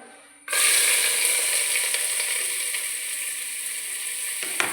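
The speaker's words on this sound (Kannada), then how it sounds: "ಈಗ ನೀರುಳ್ಳಿ ಹಾಕ್ತೇನೆ" Sliced onions dropped into hot oil for a Koddai fish curry, bursting into a loud, steady sizzle that starts abruptly and continues without pause.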